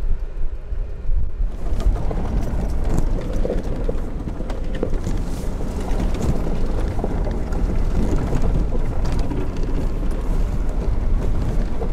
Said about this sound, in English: I doubt we're going to get any good audio in this breeze